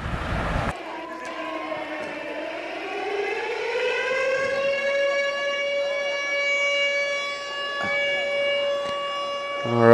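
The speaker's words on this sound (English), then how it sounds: "the siren you hear in the background" A civil defense siren winds up and holds a long, steady wail, sounding from a distance throughout a high school football game.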